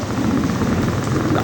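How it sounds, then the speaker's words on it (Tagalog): Heavy rain pours down steadily on a muddy road, a loud, continuous hiss and patter close by with no break. "Lakas yung ulan."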